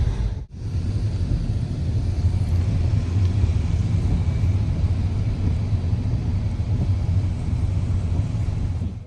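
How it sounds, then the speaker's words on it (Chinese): Steady low rumble and engine drone inside a moving shuttle bus in Da Nang, Vietnam, at night, continuous and fairly loud with no talk. "我们刚刚坐上了福塔公司的这个摆渡车"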